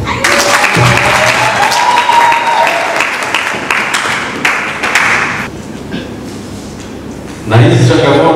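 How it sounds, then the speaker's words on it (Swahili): Applause for a special guest at a choir and association gathering, loud sustained clapping from a crowd that thins toward the end before a sudden louder burst of sound, with voices mixed in. "mgeni maalum stahili mpigie makofi"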